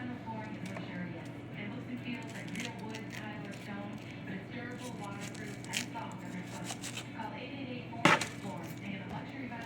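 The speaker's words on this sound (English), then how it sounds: "I'm gonna start dicing up this onion" Knife dicing an onion on a cutting board, soft irregular chopping taps running steadily beneath continuous talking, with one sharper knock near the end.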